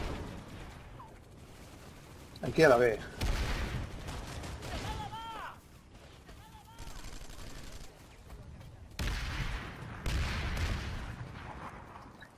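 Scattered bursts of gunfire and explosions from the video game PlanetSide 2 crack at mid distance in irregular volleys, with players talking in Spanish over the battle.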